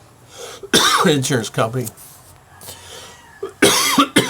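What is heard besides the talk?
coughing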